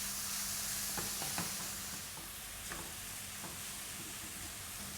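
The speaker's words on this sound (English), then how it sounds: "Let's mix all of this well." Mushroom mixture with coriander sizzling in a frying pan as a spoon stirs it, a steady close hiss with a few soft scraping knocks of the utensil against the pan, no voices.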